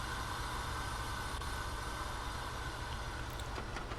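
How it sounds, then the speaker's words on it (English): Air brakes release with a quiet, steady hiss on the Boston Sprinter train in Train Sim World 2. The faint broadband rush holds evenly throughout, with no talking. "Ah, the great sound of the brakes releasing."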